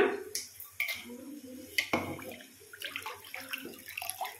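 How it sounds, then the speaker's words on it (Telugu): Washed rice and its soaking water are poured into a cooking pot for egg pulao with beans and carrots, a close splashing gush with clinks and bursts of water, fairly loud and continuous. "అవి మొత్తం అమాంతం పోసేసుకుందాం"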